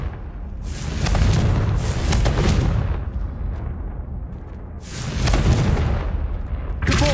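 Repeated booming blasts of the Confringo fire spell in Hogwarts Legacy, several loud rumbling explosions arriving in bursts with brief lulls between them, close and heavy with no talking.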